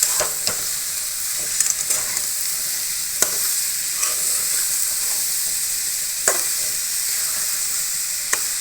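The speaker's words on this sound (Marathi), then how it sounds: "आणि हे सर्व परतून घ्यायचं आहे" An amla pickle mixture with sugar sizzles in a pan under constant stirring, a close, even frying hiss broken by occasional scrapes of the spoon.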